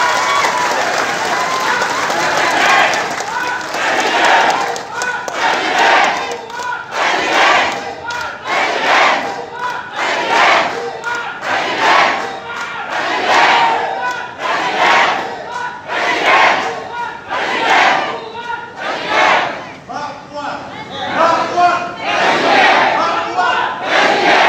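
A large crowd at an outdoor political rally cheers and claps in loud rhythmic waves, with chanting voices swelling over sustained applause for the whole stretch.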